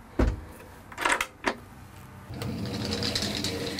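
A storage unit in a motorhome sliding open: a few knocks and rattles, then a steady, slightly whirring slide that runs on to the end, close by with no talking.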